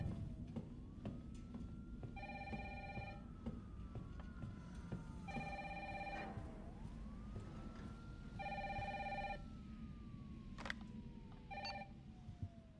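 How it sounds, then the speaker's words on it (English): An old landline telephone in the survival horror game Resident Evil 3 rings in repeated double bursts, four rings spread evenly through the clip over a low rumbling ambient backdrop with a faint wailing siren. "suddenly we can hear a phone ringing"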